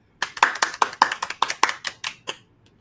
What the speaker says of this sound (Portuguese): salva de palmas aí para Fernando Luiz Dil